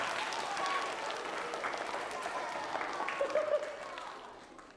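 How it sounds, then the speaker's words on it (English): Applause from a group of people, a soft continuous spread of clapping that carries evenly and fades slightly toward the end, with faint voices mixed in. "Give yourselves a round of applause"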